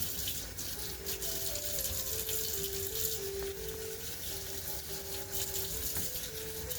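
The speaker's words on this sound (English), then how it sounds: "So we're going to rinse these off" Produce rinsed under a running kitchen tap, a steady continuous stream of water splashing close by with a faint tonal hum underneath and no talking.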